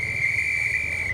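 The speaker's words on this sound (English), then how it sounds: "Team sent on their way with a whistle into the neutralised section" A single sustained referee's whistle blast sends a cycling team off into the neutralised section of a mountain stage race, steady and shrill for over a second with faint crowd noise beneath.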